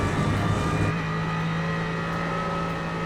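An Aston Martin race car held at full throttle in iRacing, with a steady high-revving engine drone that holds a constant pitch, loud and continuous, with no talk over it.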